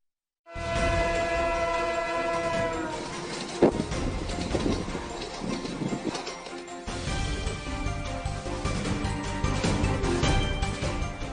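A special passenger train running from Howrah to New Delhi sounds a long, loud horn with steady tonal blasts, then rumbles and clatters along the rails nearby, with a sharp bang partway through and no talking.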